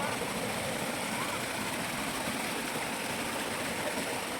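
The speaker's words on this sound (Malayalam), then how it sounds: "അവിടുന്ന് വെള്ളം ഒഴുകുന്നുണ്ട്" Water flowing over rocks at a rocky outdoor spot where a stream runs down, a steady broad rushing wash that holds an even level throughout, with no voices over it.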